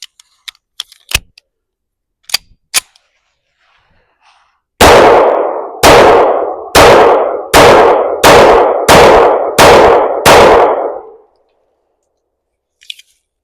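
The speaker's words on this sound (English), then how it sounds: "next up we have 45 ACP followed by 410 slugs" Gunshots from .45 ACP and .410 slugs fired at pumpkins outdoors, a few sharp cracks and clicks first, then a steady series of about eight loud booming shots roughly a second apart, each with a short decaying tail, with no talking.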